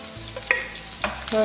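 Ginger, garlic and curry leaves fry in oil for a bitter gourd pickle, giving a close, steady sizzle with a few sharp stirring clinks against the pan.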